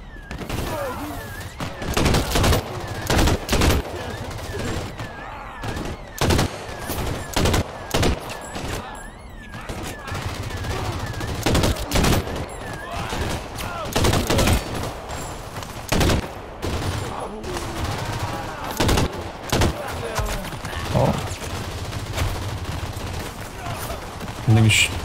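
Rifle fire in a video game battle, with repeated loud bursts and single shots scattered across the whole stretch amid continuous battle noise, while a voice talks at times.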